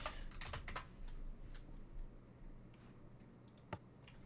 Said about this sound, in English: I sure love typing numbers in.